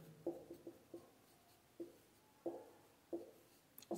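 Marker or chalk writing on a board during a chemistry lesson on rate of reaction, heard as short scratchy strokes in irregular bursts, close and fairly quiet with no talking.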